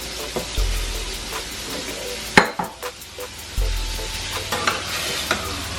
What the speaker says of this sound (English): We're also gonna put some smoked sausage in there.